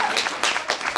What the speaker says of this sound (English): How about we give her a round of applause?